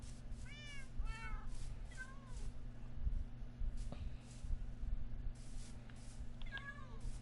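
Minecraft cats meow several times inside the game, short rising and falling cries scattered across a steady low hum of gameplay background noise, with no one talking.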